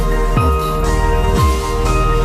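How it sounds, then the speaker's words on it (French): An electric cigarette tube filling machine runs with a steady mechanical whir and hum, and its motor pitch dips twice as each tube is filled. The machine is close and loud, with no voices over it. "Désolée pour le bruit, ça c'est la tubeuse."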